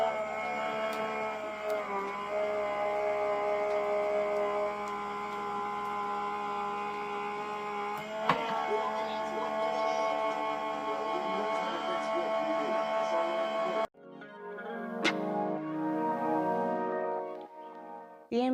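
A Sizzix Switch die-cutting machine pushes a thin-lit die through with a humming electric motor whir that shifts pitch several times, cuts off briefly, then starts up again.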